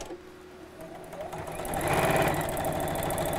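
A sewing machine stitches the last seam of a small fabric biscornu pin cushion, its motor whirring steadily and growing louder partway through as the needle runs fast. No one speaks.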